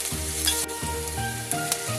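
Garlic, ginger and onion sautéing in a hot pan for Filipino ginataang laing, a steady loud sizzle with a few stirring scrapes, no voices.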